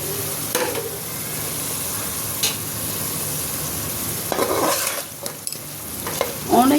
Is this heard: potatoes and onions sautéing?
yes